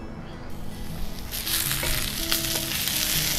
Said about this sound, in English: We're going to add our red onions and our garlic.